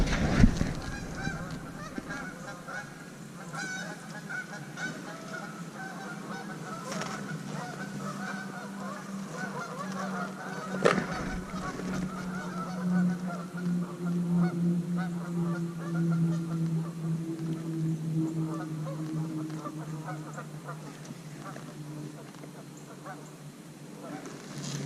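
Wild geese honk repeatedly during a goose hunt in cold weather, nearby and fairly loud, with overlapping calls over a constant background hum, some squawks more drawn out than others.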